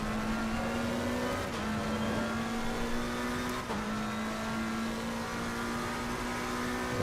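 Sustained race car engine drone from a McLaren GT3 in a multiclass GT3 and GT4 sim race at Imola, steady high revs with a brief shift dip midway, loud and continuous with no talk.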